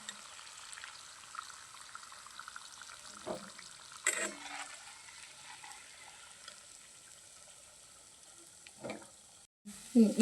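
Potatoes with sprouted sesame frying in a pan, a low continuous sizzle and bubbling with occasional spoon scrapes and knocks, fairly faint throughout.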